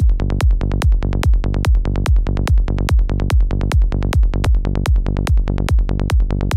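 Processed psytrance bass built on Ableton's Operator synth: a loud, steady rolling pattern of short punchy bass notes with clicky tops, repeating rapidly and evenly throughout, with no voices.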